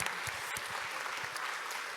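Applause at a closing session of a multi-day event, honoring the organizers: steady mid-level clapping from a crowd across the whole moment, with a few sharper individual claps standing out.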